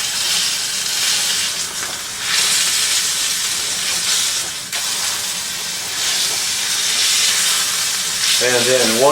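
Pork filet searing in a hot pan and rolled with tongs, a loud steady hiss and sizzle that surges in waves as the meat is turned, heard close up with a faint voice near the end.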